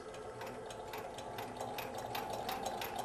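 A MiniPress II tablet press runs at its fastest setting of 36 RPM, giving a steady, busy mechanical whir with rapid repeating clatter, close and continuous, with no voices.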